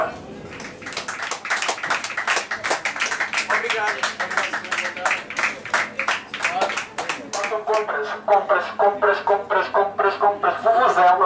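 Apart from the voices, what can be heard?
passengers applauding on a train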